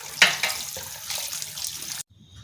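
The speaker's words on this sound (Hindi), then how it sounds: "बॉईल करने के बाद हमें स्पैगेटी को अच्छी तरह से ठंडे पानी से धो लेना है।" Boiled spaghetti rinsed under a cold kitchen tap, a steady close splashing rush of running water over the pasta in a sink that cuts off abruptly near the end.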